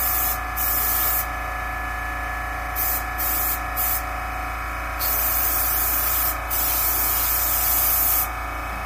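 Airbrush spray paint hissing onto a skin-mounted bluegill fish during tinting, in several sustained bursts separated by short pauses.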